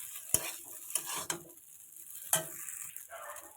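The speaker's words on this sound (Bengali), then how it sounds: "হালকা করে চাউমিনটা একটু পেঁয়াজের সঙ্গে ভেজে নেব।" Chow mein noodles frying lightly with onions in a pan over low gas, giving a soft, steady sizzle broken by a few sharp clinks and scrapes of a spatula or utensil against the pan.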